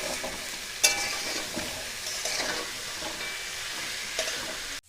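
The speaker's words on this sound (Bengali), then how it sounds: "আলু আর পেঁয়াজটা ভাজতে ভাজতে তার মধ্যে চই ঝালগুলোও দিয়ে দেবো" Potatoes and onions frying in a pan, a continuous close sizzle with bright crackling and occasional louder spits, even in level throughout and ending abruptly, with no talking.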